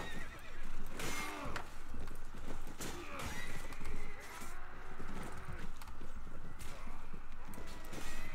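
A horse in the Mount & Blade battle game whinnies repeatedly as its hooves clop steadily across the ground, with battle noise and faint voices mixed in behind.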